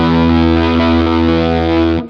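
Woolly fuzz pedal on an electric guitar, a single thick, saturated sustained chord ringing loud and close before cutting off abruptly, alone without talk.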